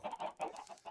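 Chickens cluck in a Minecraft VR game, several short, close clucks in quick succession with no talk over them.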